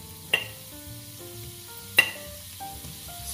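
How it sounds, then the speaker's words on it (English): Quiet sizzle of food frying in a pan and starting to burn, with sharp clinks of a utensil against the pan and soft background music. "Sizzling."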